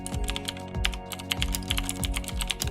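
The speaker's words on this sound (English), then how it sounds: "As the name suggests, clicky switches will give you an audible click." Quick, uneven keystrokes on a mechanical keyboard with clicky switches, each press a sharp, close click, typed alone with no talking over it.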